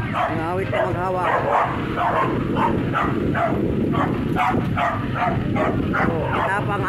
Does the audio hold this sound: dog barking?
yes